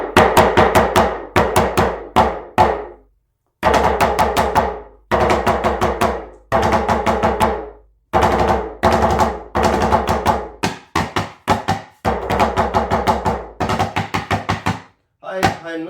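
Khashaba, an Iraqi wooden percussion drum, struck by hand in brisk rhythmic patterns, sharp resonant wooden hits in repeated phrases with brief pauses, loud and close.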